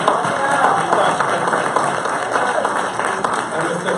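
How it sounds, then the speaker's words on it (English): An audience claps for a uniformed honor guard at a corporate security company's evening cocktail reception, a steady, crowded patter of hands heard close and fairly loud, with a murmur of voices underneath throughout. "I would like to give a round of applause for our honor guard"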